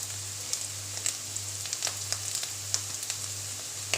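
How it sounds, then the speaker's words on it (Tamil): Potatoes sauté in a hot pan with turmeric and salt for a spicy potato stir-fry, giving a steady close sizzle with scattered small pops and crackles throughout. "இப்போ பார்த்திங்கன்னா நம்ம உருளைக்கிழங்கு நல்லா போட்டு வதக்கிட்டோம்."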